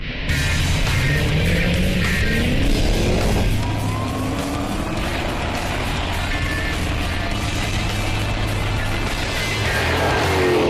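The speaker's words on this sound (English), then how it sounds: "These 2 cars are just begging for an old-school drag race." A Shelby Super Snake and a Challenger drag racing, engines roaring loudly as they launch and climb through the gears together, a sustained powerful howl over about ten seconds.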